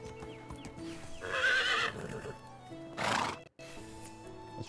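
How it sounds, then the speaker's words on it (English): A horse in the medieval farming game Medieval Dynasty gives a loud whinny, then a second shorter neigh, while hooves clip-clop faintly throughout over a low ambient background. "Hang on, where's the horse? Bring the horse over."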